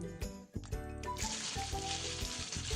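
Pieces of chicken for Kashmiri chicken kanti drop into hot oil with a few knocks and clunks, then a bright, hissing sizzle swells up and continues steadily, close and loud.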